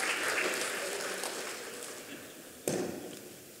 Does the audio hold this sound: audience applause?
yes